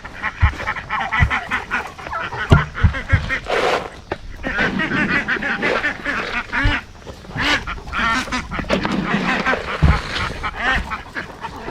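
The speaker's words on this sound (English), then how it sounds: "And you ducks want some food, apparently?" Ducks honking and quacking in a noisy, excited crowd while begging for feed on a farm, with calls overlapping continuously, close and loud.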